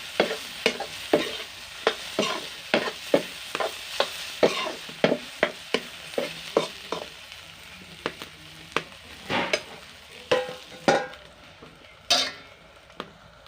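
Food frying in a pan in a home kitchen, with a soft sizzle beneath regular scraping stirs about twice a second, close and fairly loud, slowing and spacing out toward the end.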